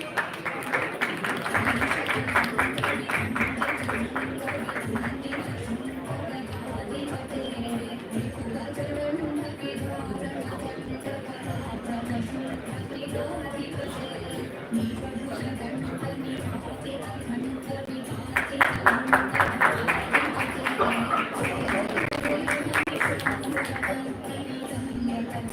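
Audience applause at an HR conclave comes in two rounds of steady clapping from a hall crowd, with a murmur of chatter and a voice over a PA between them.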